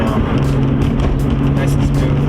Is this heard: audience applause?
no